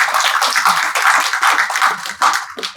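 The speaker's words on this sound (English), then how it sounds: "can we please give them a round of applause for showing that kind of leadership?" Brisk, close audience applause at a Sikh Heritage Month celebration in the Ontario Legislative Assembly, a continuous wash of many hands clapping that swells and dips slightly before thinning at the end.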